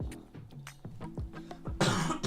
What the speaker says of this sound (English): I promise the cough suite will stop me coughing in a second, guys.